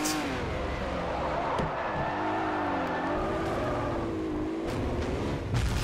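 A race car engine in Forza Motorsport 4 on the Top Gear Test Track revs hard and rises through the gears, loud and close with brief tire squeal and shifts.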